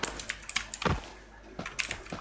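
A computer keyboard picked up close to the microphone gives a quiet run of irregular key clicks and taps. Short bursts are separated by brief pauses.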